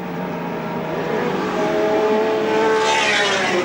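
A big Ford Falcon touring car races at Lakeside circuit in a 1984 championship round, its engine roaring continuously and rising in pitch as it accelerates past, fairly close and loud.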